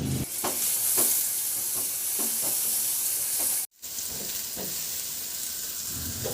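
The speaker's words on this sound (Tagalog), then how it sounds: "Magpainit na ako ng mantika at igisa ko na yung bawang." Garlic sautés in hot cooking oil with a continuous bright sizzle, marked by small pops and stirring scrapes, a brief gap, then sizzling again, at the start of a chicken and chayote sauté.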